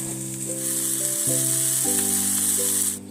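Salted mushrooms sizzle steadily in a hot pan, a continuous bright hiss heard under soft background music with sustained tones.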